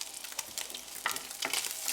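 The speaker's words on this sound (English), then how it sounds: "wait for the butter to melt and start to sizzle" Butter sizzles and crackles in a pan, a steady hiss with scattered pops and occasional scraping, fairly faint and close, with no voices.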